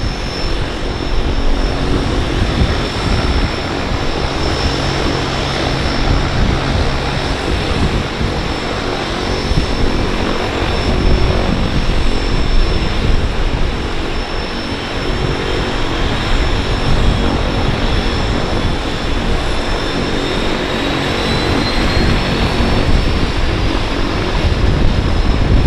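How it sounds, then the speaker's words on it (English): Propeller airplanes moving at Vancouver Harbour airport give off a steady, loud engine drone that holds for the whole stretch, with a sustained whine running over the broad roar and no talking. "Airplanes on the move here, just so you guys can see."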